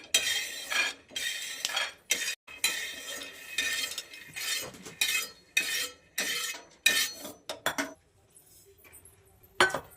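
Roasted peanuts are scraped and scooped from a pan with a metal spoon, giving a series of bright clinks and rattling scrapes in bursts, close and fairly quiet, with short pauses between strokes.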